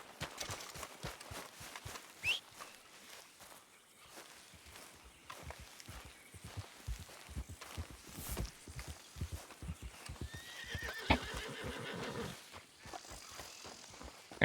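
Horse hooves clip-clop steadily at a walking pace in Red Dead Redemption 2, close and fairly quiet, with a brief rustle and snort toward the end and no speech.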